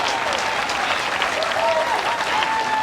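Crowd applauding at the Women's Triples final of the 2023 World Bowls Championships, Australia against New Zealand. Steady sustained clapping from many hands rises under a commentator's voice.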